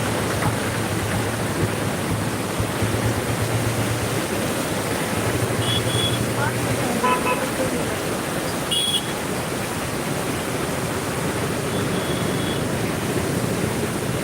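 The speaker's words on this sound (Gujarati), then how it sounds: "પાણીનો પ્રવાહ એટલો ભયંકર સ્વરૂપ લઈ ચૂક્યો છે કે એની વાત જ ના પૂછો" Raging floodwater from heavy rain in Junagadh rushes steadily near the Kalva bridge, a loud, unbroken roar of churning water that fills the whole stretch without pause.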